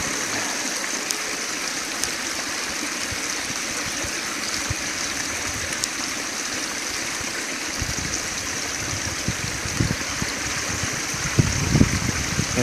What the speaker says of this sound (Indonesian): sungai ini biasanya digunakan para petani untuk mengaliri sawah